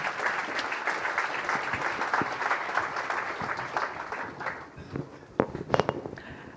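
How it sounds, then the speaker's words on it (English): An audience applauds panelists at a World Bank conference on the Africa region: dense, steady clapping for about four seconds, then thinning into scattered, sharper individual claps as it dies away. "Please give them a round of applause"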